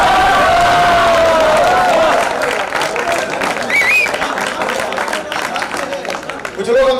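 A crowd claps and cheers at a Haryanvi comedy poetry gathering (kavi sammelan), a loud, busy patter of hands that carries on while a voice rises over it.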